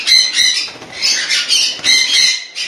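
Pineapple conure parrot chicks squawking in a home breeding setup, a close, loud, continuous chorus of shrill overlapping calls in rapid bursts with brief rustles.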